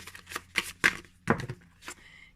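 A deck of tarot cards is shuffled by hand in close, quiet, uneven bursts of riffling and slapping, five or six short flurries with brief gaps between them.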